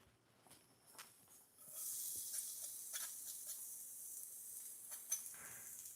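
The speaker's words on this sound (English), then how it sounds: "I'm going to add the next half of that garlic in here now and get that sauteing going" Garlic hits a hot pan and begins sautéing with a steady, soft sizzle that starts abruptly and keeps going, with light scattered clicks and stirring sounds over it.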